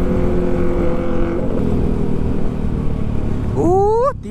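Yamaha WR155R single-cylinder motorcycle engine running loud on a group Sunday ride, a sustained droning roar that climbs into a sharp rising rev near the end before cutting off, with wind noise.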